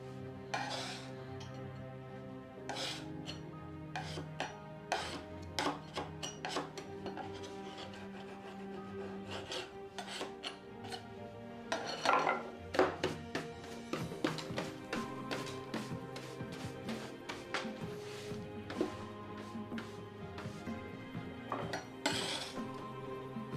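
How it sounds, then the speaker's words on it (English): A palette knife scrapes and rubs sawdust out of the inside corners of a wooden door under restoration, giving repeated short scratchy strokes and light clicks at close range over a steady tonal hum. "Palette knife to get rid of all this sawdust."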